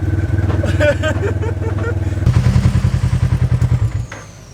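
Polaris RZR XP 1000 side-by-side running on a trail, its engine a loud, steady low rumble with a rhythmic throb that swells partway through, then drops away near the end, with clattering over the top.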